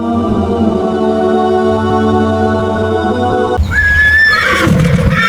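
A horse neighs loudly in a story sound effect, a bright whinny that comes in after a sustained tonal passage and carries to the end, with no talk.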